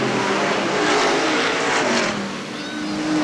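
Stock cars in a Sportsman heat race at Hales Corners Speedway, 1989, roaring past with engines droning and shifting pitch as the pack runs three wide, a loud, continuous rumble with faint tire noise.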